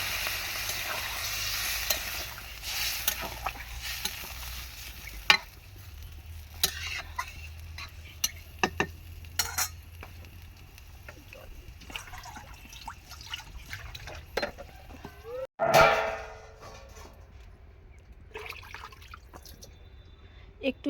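A fish curry sizzles and is stirred in a pan, with scattered scrapes and clicks, then water poured in brings a sudden loud hiss that quickly fades back to a gentle simmer; voices murmur faintly at times.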